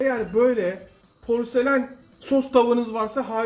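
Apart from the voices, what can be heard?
No distinct noise like a dog, phone or traffic.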